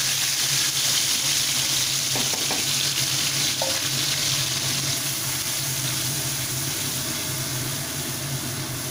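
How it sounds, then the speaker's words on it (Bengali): Garlic spice paste fries in hot oil, making a loud, continuous sizzle and crackle from start to finish, with a few faint clinks of a utensil; no voices. "ভালোভাবে মশলাটাকে কষিয়ে নিচ্ছি।"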